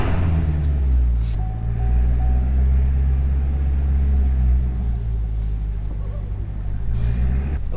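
A wrapped Corvette rolls off for a drive, its engine a steady, close low rumble that holds evenly throughout with no voices over it.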